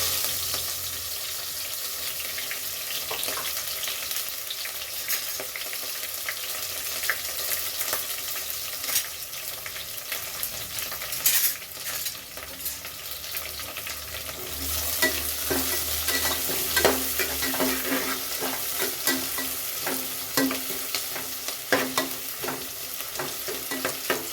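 Dry red chillies, curry leaves and onion fry in hot oil for hotel-style bisibele bath, a close, steady sizzle broken by scraping stirs of the spoon throughout, with no one talking.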